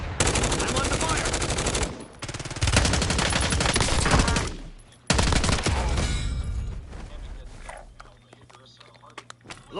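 Rapid automatic gunfire and single shots in the Call of Duty Warzone video game, loud and dense in long bursts with short gaps, then thinning to scattered shots near the end, with game voices talking over it.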